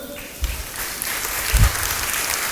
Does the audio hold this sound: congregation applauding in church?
yes